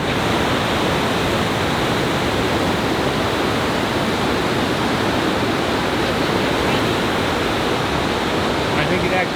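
Niagara Falls roars in a dense, unbroken wash of white noise, loud and constant and heard up close, with no voices over it.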